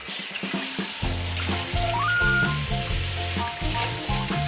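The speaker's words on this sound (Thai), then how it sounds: "ใส่หมูลงไปผัดนะ" Steady sizzling of pork stir-frying in a hot pan, with scraping stir sounds and a melodic tone playing underneath throughout.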